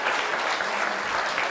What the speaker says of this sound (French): On peut l'applaudir, au revoir.